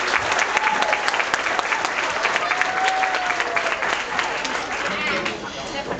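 An audience at an elementary school talent show claps in a full, sustained round, with a murmur of crowd chatter and a few voices mixed in under the applause.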